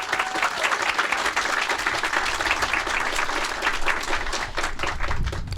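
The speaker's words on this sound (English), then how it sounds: "please wave your hand so you can get a big round of applause" Steady, lively applause from an audience at a public library branch groundbreaking, crowd clapping continuously and evenly throughout, moderately close.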